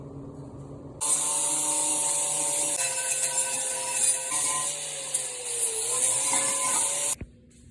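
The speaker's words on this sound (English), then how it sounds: "I'm gonna grind that down a little." A grinder works down welds on sheet metal for a rotary intake build, a steady high whine that starts abruptly, holds loud and close for about six seconds with slight pitch dips, then cuts off.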